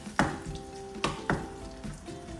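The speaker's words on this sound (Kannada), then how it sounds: "ಆನಿಯನ್ ಹಾಕಿ ಚೆನ್ನಾಗಿ ಫ್ರೈ ಮಾಡ್ಕೊಬೇಕು" Onions frying in a pan with bay leaf and cardamom, a steady soft sizzle broken by a few sharp scraping stirs of a spatula against the pan, with no talking.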